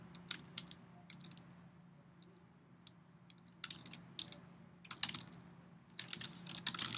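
Computer keyboard typing a search into Google, brisk irregular clicks of keys close by, quiet over a low steady hum.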